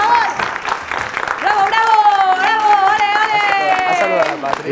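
A live show audience with students breaks into loud, sustained clapping and cheering, dense and close. A host's voice talks over the applause.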